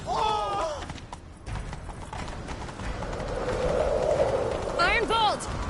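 Galloping horse hooves in the video game Witcher 3 beat out a rapid, steady clip-clop that runs throughout, with voices calling out near the start and again near the end.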